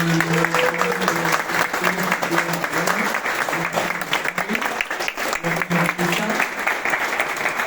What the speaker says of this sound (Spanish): dar un aplauso fuerte a Logic Crew